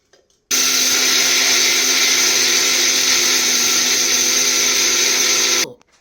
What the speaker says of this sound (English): let me continue grinding